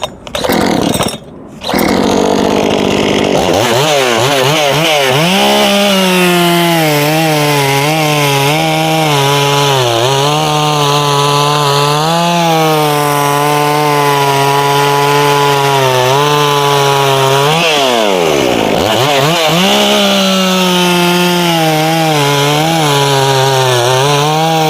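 A Solo by AL-KO 6656 chainsaw starts, then revs near 10,000 RPM and bites steadily through wood, a loud, close, sustained two-stroke whine that dips briefly under load partway through before climbing again.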